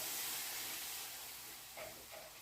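Peppers cooking in a pan give a faint, steady hiss of sizzling that softens toward the end, with a couple of small soft bumps near the close.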